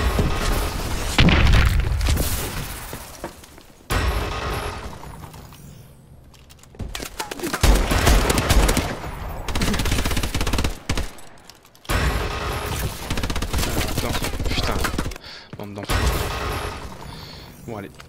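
NA45 fire in the shooter game Call of Duty: Advanced Warfare: several loud bursts of gunfire and booms, each followed by mechanical weapon handling and short gaps, with a player talking over the action.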